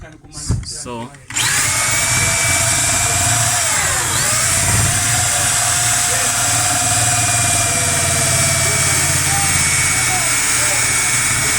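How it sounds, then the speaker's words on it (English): A power drill whirs steadily and loudly after a brief pause, holding a continuous high-pitched grinding drone with slight pitch dips as it bites into material. "Let me drill. We drilling a hole."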